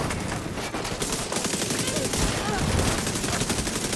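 Rapid turret gunfire in The Division 2 rattles on steadily and loudly as one dense, unbroken burst of shots, with a voice faintly under it.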